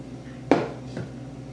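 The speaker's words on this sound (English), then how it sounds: "Scrape my blades off. Get all the good dough off." A few scraping knocks as eclair dough is scraped off metal mixer blades, one sharp scrape followed by a softer one, close by in a quiet kitchen.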